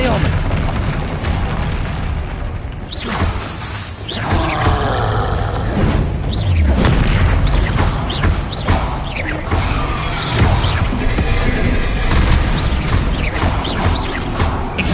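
Confringo fire-spell blasts in a Harry Potter video game, loud booming explosions and crashing impacts over a continuous roaring game soundscape, with spell effects layered throughout.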